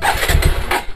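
A vehicle engine turning over and catching, probably a motorcycle or scooter, on a trip through a forest area. It is loud and close, with a rough, uneven low rumble across the full second and no talk over it.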